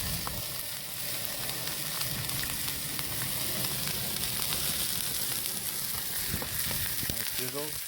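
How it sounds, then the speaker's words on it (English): Steady, loud sizzling of food frying on a hot Diamond King Smoker Grill Box, continuous crackle throughout with a few brief pops near the end. "Nice sizzle."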